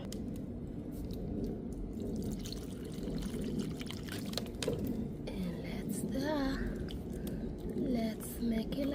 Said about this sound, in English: I still need to add more water.